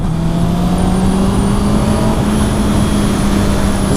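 A 2019 Honda CB650R four-cylinder motorcycle accelerating on the road, a loud continuous engine drone whose pitch climbs gradually, heard close with wind noise and no talk.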